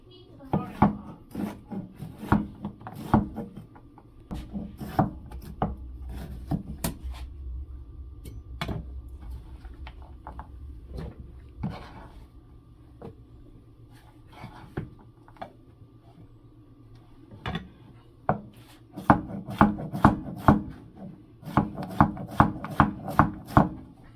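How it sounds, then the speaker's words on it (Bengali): A knife finely chops bottle gourd on a board with rapid, crisp knocks. The chopping runs in uneven bursts and grows denser and steadier toward the end. "এখন আমি লাউ কুচি করে নেব।"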